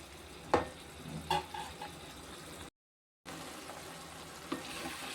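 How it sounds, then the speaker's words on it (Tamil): Tomato and onion gravy for masala idli cooks in a pan with a soft, continuous sizzle and bubble, broken by a few gentle stirring clinks and a brief gap of silence. "நல்லா கொல கொலன்னு வரணும்"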